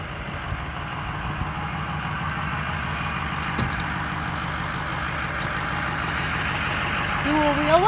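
Diesel pickup truck engine idling steadily nearby, a low continuous rumble with people talking over it.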